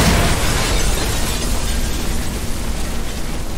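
A flare gun fired in the horror game In Sound Mind, heard as a loud, sustained burst of hissing, roaring noise that stays strong and fairly even throughout, with no voices.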